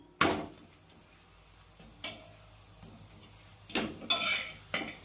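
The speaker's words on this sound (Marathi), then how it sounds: "साजूक तूप टाकल्यानंतर छान आहे, आलटीपलटी करून छान भाजून घ्यायचं" Dashmi flatbread roasts in ghee on a pan over low heat and is turned with a utensil: a few sharp scraping clinks against the pan over a faint steady sizzle.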